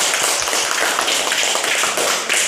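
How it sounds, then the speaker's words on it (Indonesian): A classroom group claps hands together after a short lesson talk, a dense, steady patter of many overlapping claps filling the space at close range with no speech over it. "Oke, tepuk tangan untuk saya."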